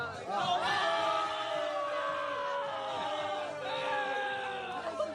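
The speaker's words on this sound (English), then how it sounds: "they start booing viciously at the rug pull" Large stadium crowd at the Super Bowl booing as the Coinbase commercial plays, a loud continuous mass of jeering voices and shouts held for several seconds.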